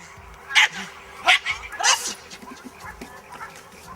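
A bull terrier lets out three sharp, loud barks close by, spaced under a second apart, followed by quieter, fainter yips.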